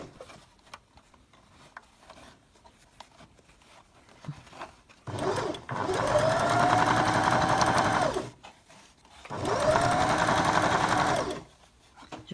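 A sewing machine stitches a drawstring bag in two long, steady bursts of fast mechanical whirring, each a few seconds long, separated by brief pauses with quiet handling noises.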